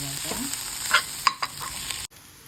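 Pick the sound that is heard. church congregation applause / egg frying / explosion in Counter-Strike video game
egg frying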